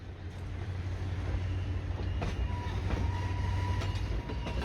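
A Fore River Railroad train with locomotive FR 102 rumbles steadily nearby, a continuous low rolling drone of wheels and cars with faint squeals and clanks as it stops and reverses.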